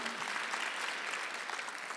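A church congregation applauds during a Sunday worship service, a steady close wash of many hands clapping with no pause.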